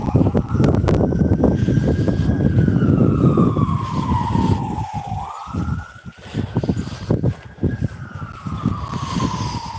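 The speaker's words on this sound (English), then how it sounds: "It's a fire truck, did you see? They all have the same sound." A fire truck siren wails loud and close, its tone sliding down and then rising again in long sweeps over street rumble and traffic noise. No voices can be heard.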